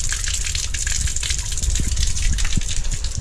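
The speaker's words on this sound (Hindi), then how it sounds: "आप पानी भी जो है छत से जो आता हुआ दिखाई पड़ रहा है वो दिखा देता हूँ" Rainwater gushes steadily off a house roof in a continuous, fairly loud rush with a broad hiss, with no voices over it.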